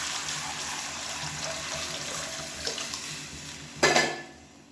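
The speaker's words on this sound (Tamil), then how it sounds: "இப்போ வந்து நம்ம தண்ணியை சேர்த்துக்கலாம்." Water splashes into a cooking pot of rasam on heated spices, with a brief burst of clattering near the end, over a steady background of kitchen hiss.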